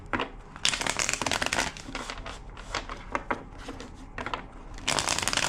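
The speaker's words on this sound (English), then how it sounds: "2 more shuffles." Several rapid riffle shuffles of a deck of cards, crisp papery bursts separated by softer handling noises, close up.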